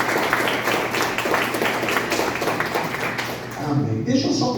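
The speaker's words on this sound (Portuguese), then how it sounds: "Se você puder aplaudir a Jesus." A church congregation at a Sunday service applauds, a dense wash of clapping mixed with crowd voices that fades near the end as a low voice begins speaking.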